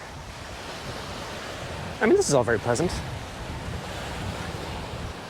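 Sea waves wash in steadily beside a restaurant on the coast at Kalpitiya, Sri Lanka, a soft continuous surf with wind noise, while someone talks briefly over it.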